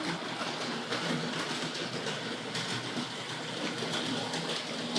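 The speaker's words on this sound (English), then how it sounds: "let's see if we can turn this train, not just the locomotive, we'll turn the whole thing around." A Hornby Dublo GWR 0-6-2 tank locomotive model train runs steadily on its track, giving a continuous close-up mechanical whirr and rattle with faint clicking, alone without talk.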